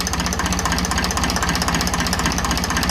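A 1954 Ferguson TEF 20 tractor engine running close by with a loud, rapid, rhythmic knocking putter, steady and strong, under no talk.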